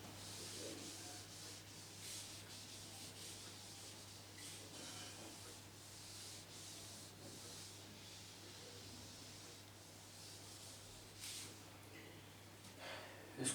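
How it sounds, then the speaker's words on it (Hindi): Chalk writing is rubbed off a classroom board during a maths lesson. A continuous, faint, dry scrubbing goes on steadily, with a few louder swipes near the end. "स्पेस कम होने की वजह से मुझे रब करना पड़ेगा"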